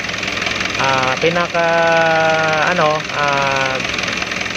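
A car engine that keeps running with the key off hums steadily beneath a nearby voice speaking in stretches, the idle holding constant throughout.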